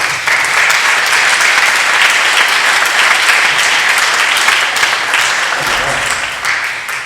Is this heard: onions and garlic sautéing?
no